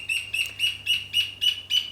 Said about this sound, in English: That's a loud bird.